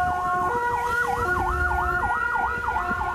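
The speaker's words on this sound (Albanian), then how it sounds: "Në vendngjarje mbritën më njëherë policia, forca zjarfikse si dhe ambulanca." A wailing emergency siren rises and falls in a fast repeating sweep, loud and close over steady traffic rumble, as police, fire engines and ambulances arrive at a crash scene.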